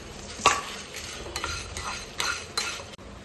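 Coriander seeds, chillies and bay leaves dry roasting in a pan for a chicken roast spice mix, with a spoon scraping and stirring in repeated strokes, a faint rustle and light crackle between them, close and without speech.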